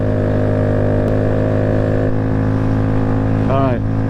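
A Honda Grom motorcycle carrying a rider and a passenger drones on at a steady, loud mid-pitched engine note, with wind rush throughout. Near the end there is a brief rising-and-falling whine.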